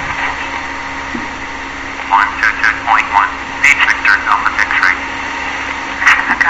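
A Cessna 172 at full power on its takeoff roll at a high-altitude airstrip in Italy: a steady engine drone runs throughout, and from midway a voice talks over the engine.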